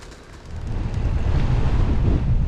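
Steady wind rushing past a cyclist riding downhill on an open road between Walbury Hill and Collingbourne Ducis, a loud, continuous low roar that builds after the first half second and holds with slight gusting.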